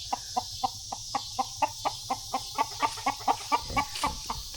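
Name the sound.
rooster clucking while a dog bothers it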